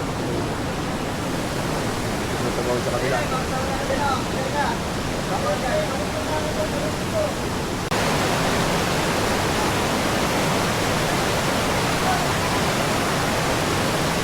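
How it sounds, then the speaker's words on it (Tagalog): Strong river current rushing at Kanapsan Falls, a loud, steady wash of water noise through the whole stretch, with voices talking over it in the first half. "Medyo malakas talaga yung agos mo."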